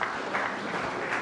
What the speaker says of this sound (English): please put your hands together for Mr. Ewua.